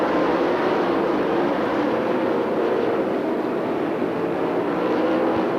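Dirt track race cars, including the number 7 car, roar steadily around an oval in a continuous loud engine drone with no pauses.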